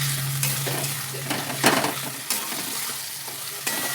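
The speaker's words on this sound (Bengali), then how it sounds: "একটু জল দিয়ে কষে নিচ্ছি" Spice paste with a splash of water sizzles in a pan for a fish dish while a spoon stirs it, giving a steady frying hiss broken by several sharp scraping strokes against the metal.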